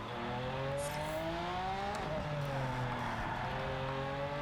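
Lamborghini Sian hybrid supercar engine in Project Cars 3, a steady loud drone with rising and falling gear tones as it accelerates and shifts, continuous throughout with no talking.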